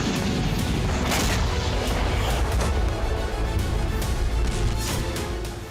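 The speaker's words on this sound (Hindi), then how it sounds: "रात में यूक्रेनी ड्रोन से कई धमाके हुए।" Continuous heavy rumbling with repeated booming impacts from Ukrainian drone strikes on Russian positions at night, loud and dense throughout with no clear pauses between blasts.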